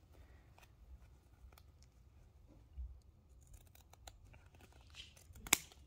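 Scissors snip through paper for a candy cane wreath, faint and close, with scattered small cuts and rustling building to a sharper snip near the end.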